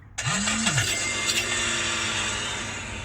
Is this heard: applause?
no